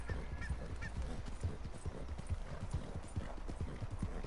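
Horse walking at a steady pace in the Red Dead Redemption 2 video game, hooves clip-clopping in a clear, even rhythm close by, with faint game ambience and no talking.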